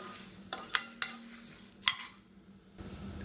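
Coriander seeds and tamarind being stirred and dry-roasted in a pan over a medium flame, with a few sharp scrapes of the spoon over a faint background sizzle.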